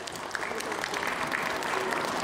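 An audience claps for a group of girls after carol singing, a steady round of applause with faint voices mixed in beneath it.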